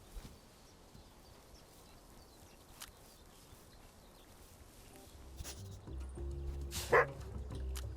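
A dog in the video game Squirreled Away gives a short bark near the end, rising briefly out of a low, steady background hiss.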